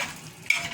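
Egusi melon ball soup with dry catfish being stirred in a pot: a soft simmering hiss, then one sharp scrape of the spoon against the pot partway through.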